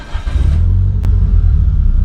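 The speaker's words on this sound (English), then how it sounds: "It's got an intake and a catback, and it just sounds almost like a race car." A car fitted with an aftermarket intake and a catback exhaust revs hard up close, a loud, throaty roar that swells and holds for about two seconds with no talk.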